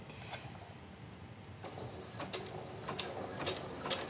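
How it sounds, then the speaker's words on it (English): A sewing machine runs a zigzag overcast stitch along the raw edges of a canvas bag, a soft continuous mechanical whir with faint ticking that grows slightly louder partway through. "So we're using the zigzag stitch to overcast the edges of the canvas bag"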